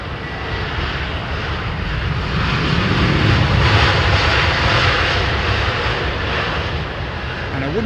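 Boeing 777 airliner in Flagship Retro livery at London Heathrow, a loud, steady jet engine roar that swells slightly in the middle and holds throughout, with faint voices beneath.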